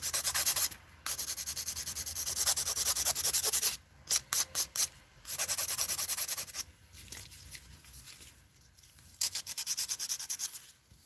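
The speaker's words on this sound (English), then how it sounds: "This is an extra coarse file too" An extra coarse nail file rasps against a fingernail during a glitter dip powder manicure, close and loud in repeated strokes, with a fast run of short choppy passes and brief pauses between bursts.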